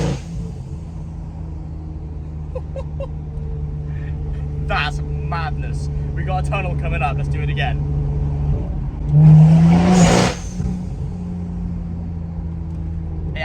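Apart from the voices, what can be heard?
BMW M240i with MHD tune accelerating, building boost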